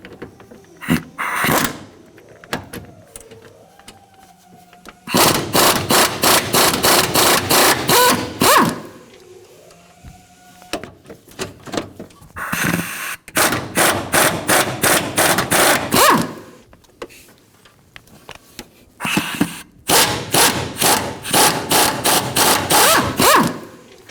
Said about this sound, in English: 14mm on a swivel socket, we're going to remove the 4 bolts at the base of the motor mount